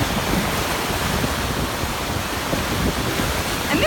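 Ocean surf rolls onto an oceanfront beach in Cancun, Mexico, in April in the evening: a loud, constant roar of breaking waves mixed with wind rumble, with no talking.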